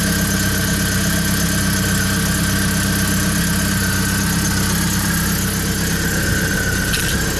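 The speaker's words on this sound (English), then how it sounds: "engine is running alright" A BMW E46 318i with automatic transmission idles steadily and loudly, heard up close as a constant even drone with a faint squeal on top.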